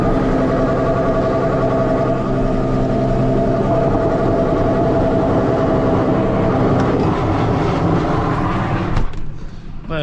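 A tractor pulling a slurry tanker rumbles loudly and steadily as slurry is spread, then the sound drops away abruptly near the end.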